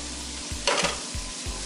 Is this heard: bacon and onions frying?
yes